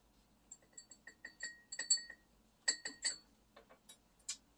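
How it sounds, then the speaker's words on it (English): Metal forceps tweezers working a small paint cup loose, giving a quiet run of sharp, bright clinks and ticks that come in uneven bursts close by, with no voices. "we'll get a pair of forceps tweezers, and I'll pull out that paint cup that we were talking about"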